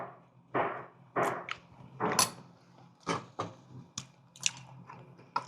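Marsh snail (dasulgi) bibimbap is chewed up close in a steady rhythm of moist, crunchy bites, with no talking.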